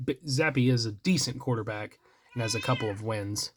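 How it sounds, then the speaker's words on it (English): A pet cat meows several times, close by, mixed in with someone talking steadily over it indoors. "Apologies for the cat interruptions."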